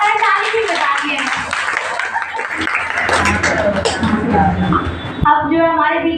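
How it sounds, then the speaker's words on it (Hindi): An audience at a children's event claps steadily for about six seconds, mixed with chatter and children's voices, the applause loud and continuous. "माताएं ताली भी बजा रही हैं।"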